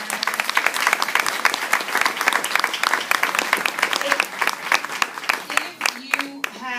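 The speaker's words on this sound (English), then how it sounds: "let's give a big round of applause to our panelists" Audience applause for panelists at an immigration reform roundtable in New York City, a steady dense burst of clapping from a room full of people, fairly close and loud, with a voice beginning to speak as it tapers off.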